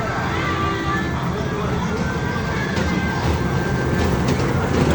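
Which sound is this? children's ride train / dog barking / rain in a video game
children's ride train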